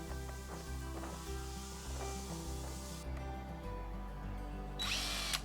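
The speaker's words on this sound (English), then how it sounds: "Big moment of drilling." A power drill whirs steadily at close range, boring into a landscape timber, its motor pitch shifting in stages as it bores in, ending with a brief higher-pitched whine.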